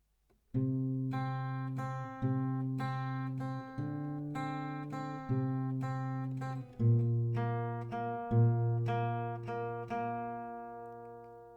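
An acoustic guitar picks out a slow, gentle melody, each plucked note ringing and fading before the next, with no one talking.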